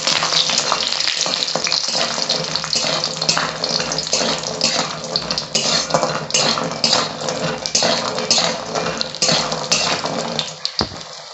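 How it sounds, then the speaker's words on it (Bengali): Urad dal badi frying in hot oil, a dense, continuous crackling sizzle that stays loud and steady throughout with faint utensil clinks, no voices. "এবার আমি বড়িগুলো ভেজে নিচ্ছি।"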